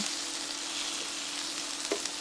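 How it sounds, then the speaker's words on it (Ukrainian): Onion fries in a pan with a continuous close sizzle and faint crackles, and no voices. "Далі на цю ж сковорідку викладаємо смажити цибулю"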